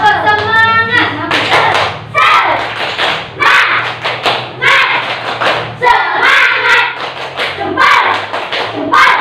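A class in a classroom claps a rhythmic cheer together with chanting voices, bursts of claps and shouts repeating in a lively cheer.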